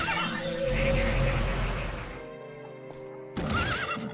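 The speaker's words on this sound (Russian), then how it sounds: "Кони пытаются ворваться." Horses neigh in the Heroes of Might and Magic IV video game, with a shrill whinny at the start and another near the end over low battle rumble.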